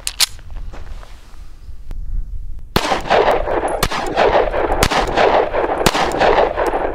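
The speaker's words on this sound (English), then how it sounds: "And we're gonna start off with the Sky, and let's fire 20 rounds." A 9mm pistol fires cheap Herter's full metal jacket rounds at a shooting range, a few isolated cracks early on, then a steady series of loud, sharp shots spaced about a second apart over echoing outdoor noise.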